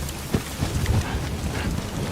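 Rain falling in the video game Death Stranding, a dense steady patter of drops on surfaces with a low rumbling undertone, loud and continuous for a couple of seconds.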